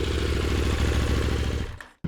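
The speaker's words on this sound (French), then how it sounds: "si on tourne un petit peu la poignée, vous allez voir, c'est pas tout à fait le son d'une 890 d'origine" Modified KTM 890 Duke R motorcycle engine, a loud rumbling mid-pitched throb with a fast pulsing beat, held steady then quickly cutting off into near silence.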